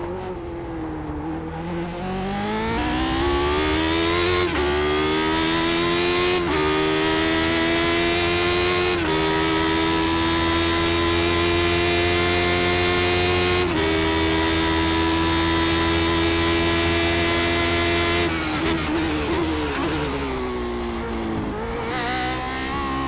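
Race car engine in iRacing at Monza, held high and steady through the rev range with several sharp gear-change breaks, loud and close throughout with only a few quiet seconds at the start.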